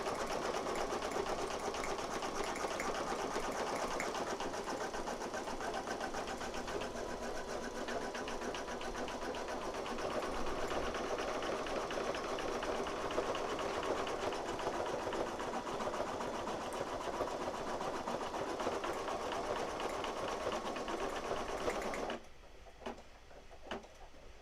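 An embroidery machine sews a satin stitch on a straw beach item, making a steady, close, continuous mechanical whir that stops abruptly near the end, followed by a few faint clicks.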